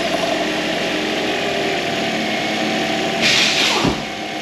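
A car engine cranks and catches after an exhaust heat shield repair, a steady running drone with a brief louder surge near the end, no talking.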